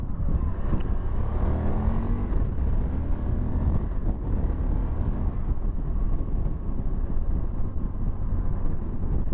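Steady roaring wind buffets the microphone while riding a Honda Varadero 1000 motorcycle, with low engine and road rumble underneath, loud and unbroken throughout with no talk.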